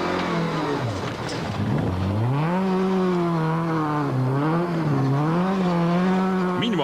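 A Mitsubishi Lancer rally car on a rally stage approaches with a loud, sustained engine note that climbs and dips through gear changes, holding close and strong throughout.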